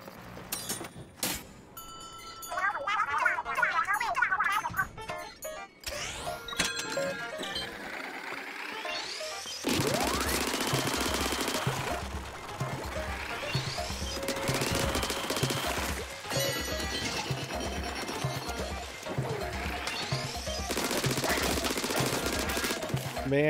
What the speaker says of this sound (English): I just want to continually keep on shooting.